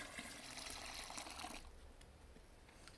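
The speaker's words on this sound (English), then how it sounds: "I'm basically going to add cold water now from here into there" Cold water poured from a jug into a homebrewed beer batch, a steady gushing splash for about a second and a half, then dropping to a quieter trickle and drips.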